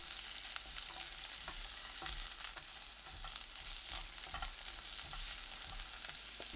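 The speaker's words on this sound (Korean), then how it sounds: "오이 넣고 중불로 1분 30초 더 볶습니다" Cucumber and garlic stir-frying in olive oil over medium heat, a steady close sizzle with soft scraping stirs throughout and no voices.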